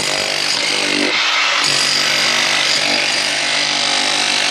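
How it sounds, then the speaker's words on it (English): A loud, harsh hammer drill digs into hard ground at close range, a steady rough roar with a brief dip early on. "bring a hammer drill because this is really hard for her to dig on"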